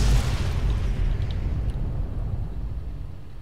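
Explosions detonating in the video game Fallout: New Vegas, heard as a loud, dense, rumbling blast right at the start that rolls on and slowly fades over a few seconds, with no talk.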